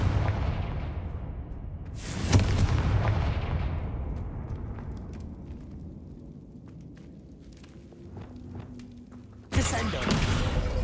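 The Confringo explosive spell blasts in Hogwarts Legacy with a deep booming burst at the start, a sharp loud blast that decays into a long rumbling tail, and another abrupt blast near the end; loud and near.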